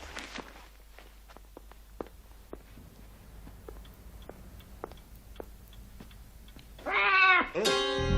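Two drawn-out cat meows ring out close by at the end, after several seconds of quiet indoor ticking and soft, sparse footsteps.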